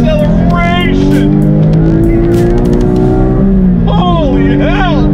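Porsche Cayman GT4 on track, its engine pulling hard with rising and falling revs through gear changes, loud and close from inside the cabin, with a voice speaking over it.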